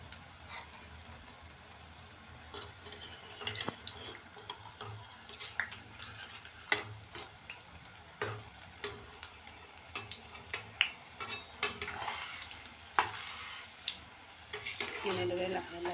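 Cabbage pakora fritters frying in hot oil, a soft steady sizzle under gentle stirring and turning, with light clicks of a utensil against the pan and a voice speaking quietly nearby.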